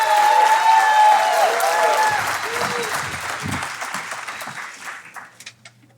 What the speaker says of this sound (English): So please, a big round of applause for our penultimate speaker, Joy Martin, everybody.